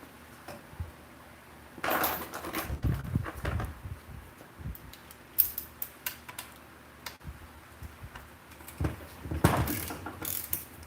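Bolt being worked out of a Muncie M22 transmission during a teardown, quiet clicks and ratcheting ticks with scattered metallic clunks and handling bursts, close and irregular, no talk.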